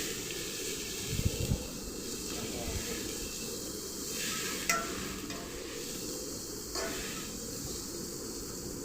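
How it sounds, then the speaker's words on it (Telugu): A bunch of amaranth greens steams and sizzles softly in a pan, a steady low hiss with occasional faint stirring scrapes, quiet and close. "ఒక కట్ట తోటకూర, కొద్దిసేపు మగ్గనివ్వాలి"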